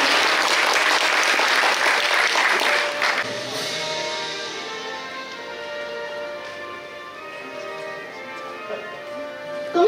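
A seated audience applauds at a school principals' handover ceremony, dense clapping loud at first and then thinning into scattered claps that fade over ten seconds, with faint background tones underneath.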